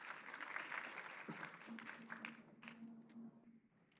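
Applause from the audience at a geography teaching conference book launch, moderate and somewhat distant, fading out toward the end while a low steady tone hums beneath.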